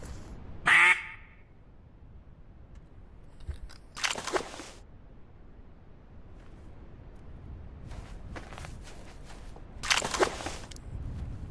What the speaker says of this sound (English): I still hear shovelers.